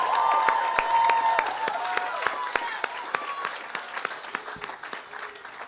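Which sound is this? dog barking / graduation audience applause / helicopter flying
graduation audience applause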